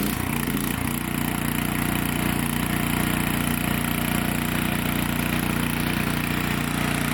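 A Miller generator/welder engine catches after a brief start and settles into a loud, steady, close idle with a constant mechanical drone.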